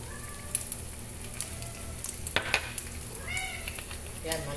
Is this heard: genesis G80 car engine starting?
no